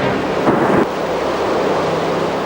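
Ocean swell rolling in with a steady, broad wash of surf, one louder surge of breaking water near the start, wind buffeting the microphone throughout, no voices.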